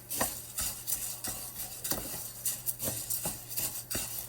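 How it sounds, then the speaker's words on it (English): Spanish rice frying in a pan while a utensil stirs and scrapes it in a steady rhythm of repeated scraping strokes roughly every half second, close and moderately quiet over a low hum. "you're going to fry this for about a good minute"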